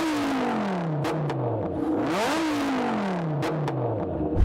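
A Dodge Viper's V10 engine revs up and down repeatedly, its pitch sweeping high then falling, with a gruff, throaty, truck-like tone and brief mechanical clatter.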